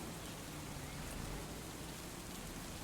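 Rain in the video game Farming Simulator 25, a steady, soft hiss of falling rain at low volume with no voices.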